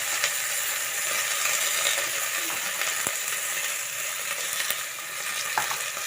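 Vegetable curry with salt, garlic chutney, turmeric and coriander-cumin powder cooking in a pan over a low flame gives a steady, close sizzle and frying hiss throughout, with a few light clinks of stirring.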